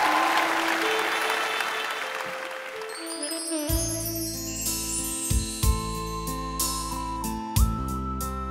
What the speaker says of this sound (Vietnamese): bà con cô bác cho anh Phương một tràng pháo tay ạ